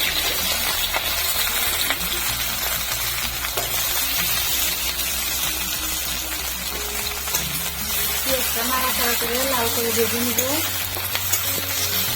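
Chopped onions hit hot oil in a pan and sizzle loudly and steadily, with stirring clatter partway through, while a low background hum runs underneath.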